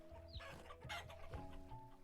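Clucking and chirping from chickens in the video game Vintage Story, faint and soft, with a few short calls scattered over a quiet background.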